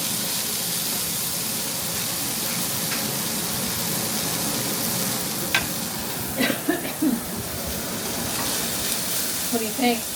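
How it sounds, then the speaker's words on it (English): Corn frying in a pan is stirred, with a steady broadband sizzle throughout and a few soft scrapes and knocks from the utensil near the end. Someone talks briefly in the background. "You want me to stir this corn?"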